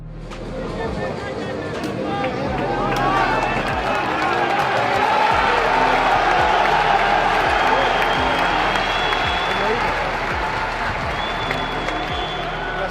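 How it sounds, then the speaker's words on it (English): Basketball fans pack a Greek derby stadium well before tip-off, their shouting, chanting and booing rising into a loud, sustained crowd roar with scattered claps and overlapping voices. "these fans are already shouting, screaming, chanting, and obviously booing the opponent team"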